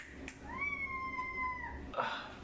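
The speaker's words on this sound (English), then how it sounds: "We have the most vocal cat ever." A house cat meows in one drawn-out, rising-then-level call lasting about a second, close and clear, with a brief rustle before and after.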